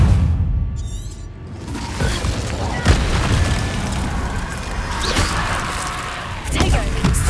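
The Incendio fire spell cast in Hogwarts Legacy, a loud booming, crackling burst of game fire and impact effects, with several sharp thuds and blasts layered over a dense, roaring background.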